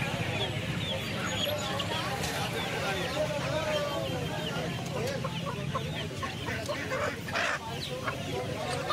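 Chickens and a red rooster cluck steadily at the Uluberia poultry market, several birds close by in a constant busy stream, with people talking in the background.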